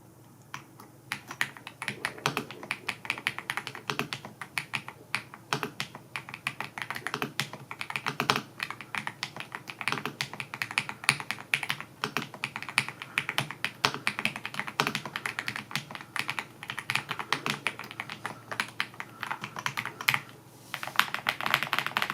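Rapid, steady clicking comes from typing on a Redragon K686 Pro (EISA) mechanical gaming keyboard, with close, crisp keystrokes in quick bursts and a brief pause near the end, with no talking.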